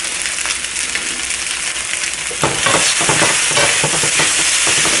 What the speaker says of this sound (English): Stir fry together.